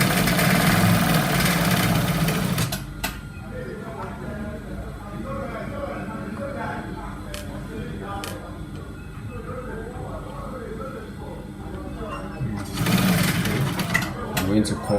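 An industrial sewing machine stitching trouser fabric runs in a loud steady burst at the start, stops while a person talks, then whirs again near the end.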